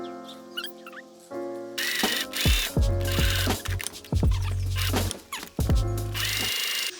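A sewing machine stitching a blouse waistband, with bursts of fast motor whirring and needle clatter that start and stop several times, close and loud.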